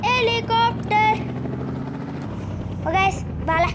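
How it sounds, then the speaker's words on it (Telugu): A helicopter in the Indian Bike Driving 3D video game gives off a steady low rotor and engine drone, with brief bursts of voice-like sound on top at the start and end. "ఫ్రెండ్స్ ఇది హెలికాప్టర్."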